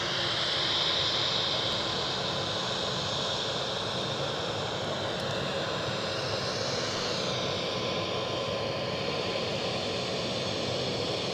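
An EasyJet jet airliner at Edinburgh Airport roars steadily at close range, its engine noise a broad, constant rush with a high whine that holds loud for the whole stretch.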